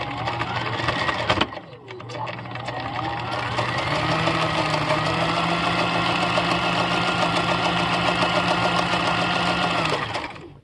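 A restored Husqvarna Viking 6440 sewing machine stitches a pattern, starting after a brief clunk and running as a close, steady mechanical whir with rapid needle chatter for several seconds before stopping.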